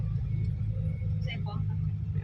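Isuzu FRR 210 six-wheel truck with trailer grinding uphill on the Phu Phan mountain road in third gear, a loud steady low engine drone with someone talking over it throughout.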